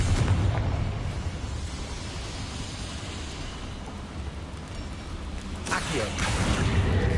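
A Confringo fire spell goes off in Hogwarts Legacy with a dense, rumbling roar of explosion that swells again near the end. It fills the whole clip.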